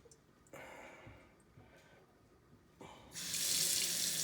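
A newly installed Appaso kitchen faucet turned on for hot water, first a few clicks and handle sounds, then a steady hiss of water pouring into the sink, growing louder.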